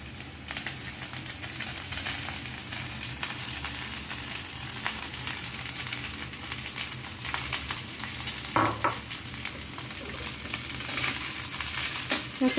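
Mixed vegetables being tossed and stir-fried in a pan for home-style Chinese veg fried rice: a continuous sizzle broken by clattering scrapes and tosses, close and moderately loud.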